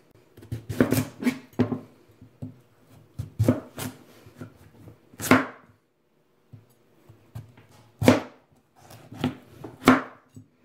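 A knife cutting down through a butternut squash on a cutting board, a series of sharp crunching chops and thuds in irregular bursts separated by quiet gaps, close-up with no speech.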